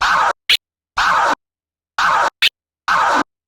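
Turntable scratching in sharp isolated bursts: four longer scratches, each followed or preceded by a quick stab, with silence between and no voices.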